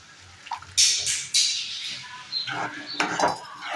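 A spoon stirs cooked moong dal into softened tomato in a pot for a ponnaganti leaf tomato dal, making a few quiet, close clinks and wet scrapes against the metal in short irregular strokes.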